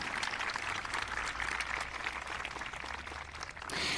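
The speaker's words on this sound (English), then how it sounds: "Give them a round of applause." Audience applause rings out at a high school graduation ceremony, a steady wash of many hands clapping across a large room, fairly even throughout and slightly swelling at the end.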